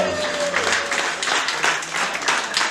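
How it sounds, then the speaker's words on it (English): Guests at a wedding reception at The Oasis in Austin, Texas applaud the couple, a moderate burst of clapping mixed with cheers and scattered voices. "let's give these two a round of applause"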